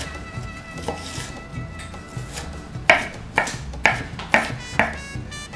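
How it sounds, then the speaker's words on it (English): A knife chopping a white onion on a board, first a couple of soft cuts, then five evenly spaced, crisp knocks close by. "So now I'm gonna chop up 1/4 of a white onion so we can fry it with the eggs."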